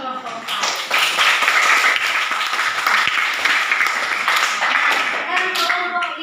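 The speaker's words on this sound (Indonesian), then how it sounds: "Silakan berikan aplaus untuk kelompok 4" An audience claps for group 4 after its group discussion presentation in a classroom. The applause is loud, dense and steady for about six seconds without pause.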